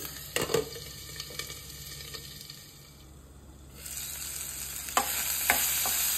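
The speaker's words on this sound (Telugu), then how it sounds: "మిగిలిన కట్ చేసి పెట్టుకున్న దొండకాయలు వేసుకొని ఫ్రై చేసుకోవాలండి" Chopped ivy gourd (tindora) fries in a pan, giving a faint, steady sizzle broken by occasional scraping stirs, quieter for a moment before the frying noise swells again.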